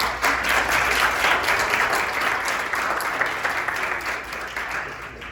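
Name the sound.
audience applause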